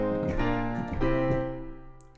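A short Mario-style chord progression moving flat six to flat seven and resolving to the one, played as sustained rich chords in three clear changes, fading out at the end.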